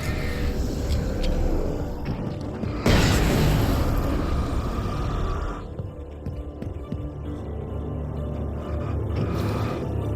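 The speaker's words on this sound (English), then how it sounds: "I'll use a flashbang." A flashbang goes off in Alan Wake Remastered, a sudden loud broadband boom partway through that rings out over a constant rumbling game soundscape, with no talk.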